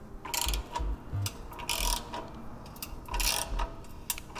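A ratchet wrench with an extension loosens a 13mm bolt on the exhaust clamp of an SC Project GP22 exhaust on an RSV4 motorcycle, producing several close bursts of rapid clicking separated by short pauses.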